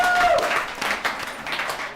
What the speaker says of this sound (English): Let's give Arthur another round of applause.